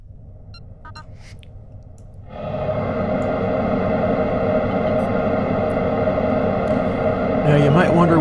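Airwindows Galactic reverb plugin turning fed-in material into a spacey ambient wash: a thinner drone at first, then a dense, loud, sustained shimmering tone that swells in at once and holds steady, with a brief brighter flutter near the end.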